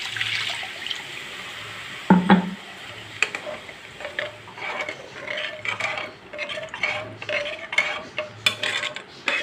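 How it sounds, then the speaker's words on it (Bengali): Water pours into a pan of paneer curry with a sudden splash and hiss, followed by a run of intermittent stirring clinks and bubbling, no voices. "আমি এবার জল দিয়ে দেবো"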